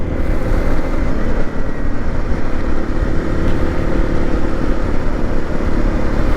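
A Honda CRF 300 Rally motorcycle rides through Kent with a loud, continuous engine drone and heavy wind rush, steady throughout with no pauses.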